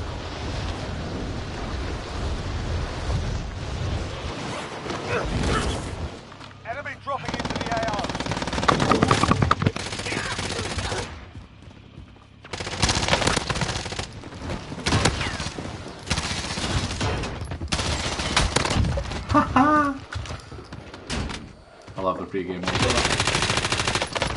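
PPSh submachine gun fire in Warzone on Rebirth Island rattles in long rapid bursts broken by brief pauses, loud and close, with other gunfire and some voices mixed in.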